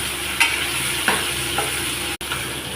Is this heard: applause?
no